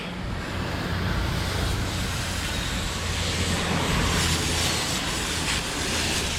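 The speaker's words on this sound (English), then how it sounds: "So once I brushed it, I'll just hose her all off." A garden hose sprays water over a Hobie Mirage kayak hull during cleaning, giving a steady, close broadband hiss and splatter that runs unbroken and fairly loud throughout.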